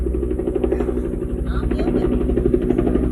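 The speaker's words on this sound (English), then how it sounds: "We have a helicopter above my house." A helicopter flying over a house, rotor thumping in a steady, low pulsing drone overhead, constant throughout, with a person talking over it.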